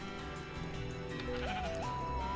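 A sheep bleats in the Minecraft video game, two or three wavering, drawn-out calls over a steady background of game music, moderately quiet and with no talk.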